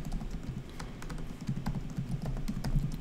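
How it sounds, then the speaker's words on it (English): Keys clatter on a computer keyboard as an email address is typed in, a fast, steady stream of close light clicks with no voices. "To log in, you need to type your full email address"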